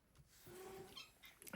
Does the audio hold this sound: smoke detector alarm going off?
no